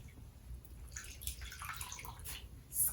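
A wig is dipped into dye water, and the liquid sloshes and drips softly. The sounds are faint and close, with a few brighter splashes toward the end.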